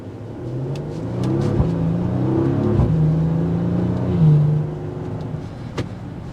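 A 2023 Maserati Levante GT accelerates hard under paddle-shifted gear changes, its engine note climbing and dropping through several shifts in a loud, continuous rev with no talking.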